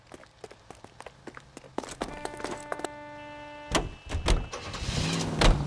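A car in the L.A. Noire video game starts off with scattered clicks and thumps, then its engine revs up in rising surges, fairly loud and close, with no talk over it.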